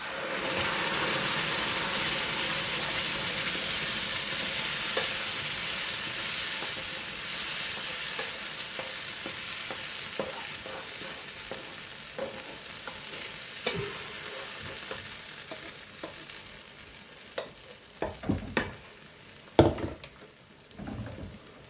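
Browned onion masala fries in a pan for potato egg curry, with a loud, steady sizzle that slowly fades while a spoon stirs and scrapes, and sharp knocks and taps come near the end.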